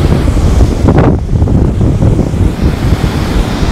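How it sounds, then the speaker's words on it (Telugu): Loud, continuous surf from sea waves breaking and rolling up the sand at Arambol Beach in Goa, a dense close-up roar with a heavier surge about a second in and wind buffeting the microphone. "వాటర్ లాగా వెళ్ళిపోతుంది, మళ్ళీ వాటర్ ఇలాగే వస్తుంది"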